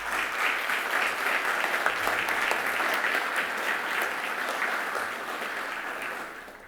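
Sustained audience applause in a hall for the vice-president of the Sociedad Bach at a journal launch, dense steady clapping that holds throughout and tapers slightly at the end.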